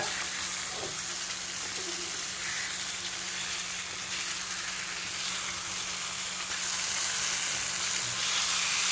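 Fish fry in hot oil in a pan for a restaurant-style fried fish, giving a steady, close sizzle and crackle that runs unbroken the whole time, with a faint low hum underneath.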